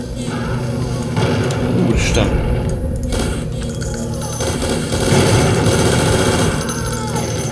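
Rapid automatic gunfire in the video game Death Wish, a dense, continuous rattle of shots and blasts running loud through the whole stretch over steady game noise.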